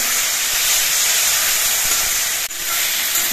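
Vegetables fry with spices in a pan for a khoyra fish curry, giving a continuous loud, close sizzle and hiss with a brief dip in the middle.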